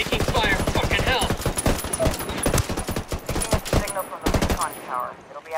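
Dense rapid gunfire from the video game Ghost Recon Wildlands, loud and close, in fast bursts and volleys with a rough tail near the end.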